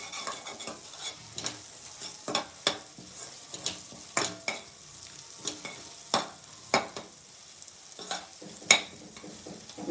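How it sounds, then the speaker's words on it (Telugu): Masala for chicken curry fries in a pan, giving a soft steady sizzle broken by regular scraping stirs of a spoon, close and fairly quiet. "ఇలా మంచిగా ఫ్రై అవ్వాలండి మసాలా, ఇంకా కొంచెం కలర్ రావాలండి"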